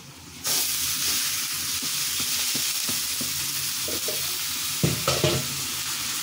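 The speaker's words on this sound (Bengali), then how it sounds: "এর মধ্যে এখন আমি দিয়ে দিয়েছি খুদগুলো।" Broken rice (khud) hits a pan of fried onions and bursts into a loud sizzle, which settles into a steady fry. Scraping stirs from the spatula recur, with a cluster of them near the end.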